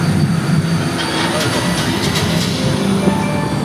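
Universal Studios Glamor Tram rolling along its tour route past the lake, with a steady rail-like rumble and faint wheel squeal, continuous and close, with a hint of voice in the background.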